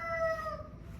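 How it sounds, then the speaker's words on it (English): A salmon Favaucana chicken giving a brief, close crow-like call, a single clear tonal cry lasting about a second. "This right here is my beautiful salmon Favaucana."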